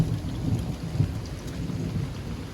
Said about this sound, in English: Y'all can hear that thunder